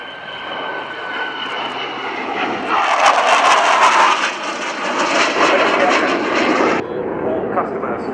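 Boeing F/A-18 Hornet fighter jet flying at the RIAT airshow at Fairford, a loud continuous engine roar that swells in the middle and then drops off, with a commentator talking over it.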